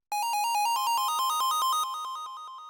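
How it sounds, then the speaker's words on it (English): PW for President synth lead from Purity, layered with a string preset, plays a bright, bell-like melodic run of quick repeated notes with rich overtones, ringing out and decaying at the end. "and it's called the PW for President,"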